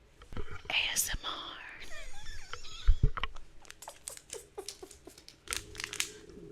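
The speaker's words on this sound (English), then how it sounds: "Brand new powder puff that I'm going to be using today, straight out the plastic." A brand-new powder puff is pulled out of its crinkly plastic wrapper at close range, giving a run of crisp crackles and rustles with faint whispering underneath.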